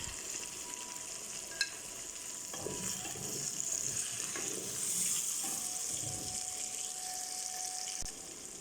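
Tomatoes and green chilies frying with garlic and ginger in a pan for Pakistani methi gosht, a steady soft sizzle with faint scraping and stirring throughout, no voices.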